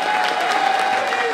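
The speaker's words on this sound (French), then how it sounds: "On vous applaudit ainsi que tous ceux qui sont avec vous." A crowd applauds at a Christmas carol awards event in the Île-de-France region, continuous close clapping from many hands filling the whole moment.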